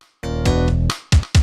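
Cheap old computer from a video game playing music badly, a sustained buzzy synthetic tone followed by two short clipped bursts, loud and alone.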